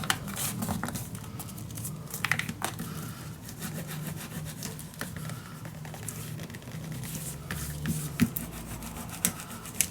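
Paper for a dog-themed mini album is burnished down by hand, making a steady close scraping and rubbing sound with scattered light taps and no speech throughout.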